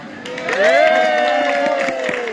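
A small audience at a family entertainment show in a holiday park lets out a rising, drawn-out cheer of several voices that swells and then holds steady.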